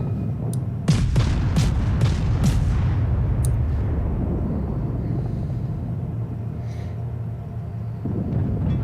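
Warship main guns fire in World of Warships with a heavy, loud boom, followed by a few sharper reports. A long, low rumble then rolls on and slowly fades.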